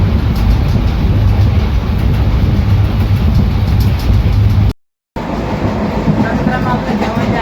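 Overnight sleeper train at night, running through Barshi Takli station without stopping, heard from inside as a loud continuous rumble with rail noise and a brief dropout partway through.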